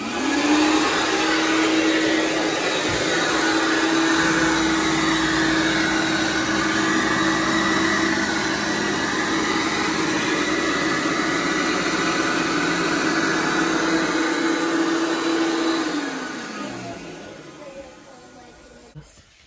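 A carpet cleaning machine sprays a homemade solution onto a bedroom carpet during deep cleaning, making a loud steady motor drone and hiss that runs continuously before winding down near the end, close by, with voices talking over it.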